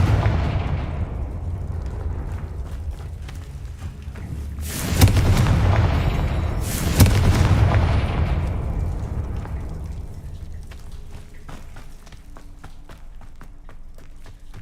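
Two heavy Confringo spell blasts in Hogwarts Legacy go off a couple of seconds apart, each a sudden booming explosion that fades into a rumbling tail over quieter background game noise.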